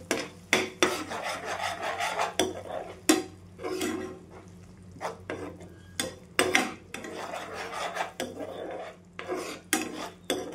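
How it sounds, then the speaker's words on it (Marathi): Crushed peanuts dry-roasting in a pan with onion masala, stirred briskly with a spoon in repeated rasping scrapes and clinks against the metal, over a faint sizzle. "हे शेंगदाणा कूट पण आपण टाकून घेऊ याच्यामध्येच. याला पण छान भाजून घेऊ."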